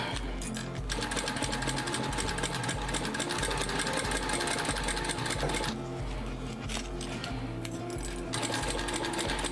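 A sewing machine stitches zipper tape on a floral dino water bottle bag in a fast, continuous mechanical whir with rhythmic needle clatter, close and steady throughout with no talk.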